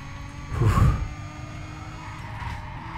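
A race car in Need for Speed: Carbon gives a short, loud surge of engine roar with a brief tire squeal, then drops back to a steady lower engine hum under the game's background sound.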